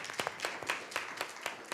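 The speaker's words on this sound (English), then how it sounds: "So we can clap for that too." Audience at a school board of education meeting giving a brief, thin round of scattered hand claps, faint and a little distant, with several separate slaps over under two seconds.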